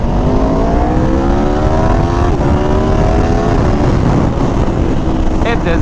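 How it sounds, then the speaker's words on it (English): A stock sport motorcycle with a V4-type engine revs continuously, loud and close, its pitch rising and falling in steady sweeps throughout. "It does not sound bad for a stock bike"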